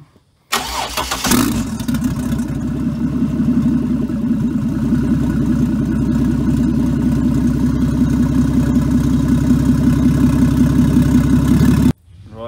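A naturally aspirated Ford Barra engine being converted to turbo cranks and catches, then settles into a steady, loud idle that runs evenly for about ten seconds before cutting off.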